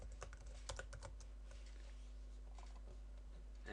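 Code typed on a computer keyboard: a quick burst of close keystrokes, then sparser, softer taps over a steady low electrical hum, with no speech.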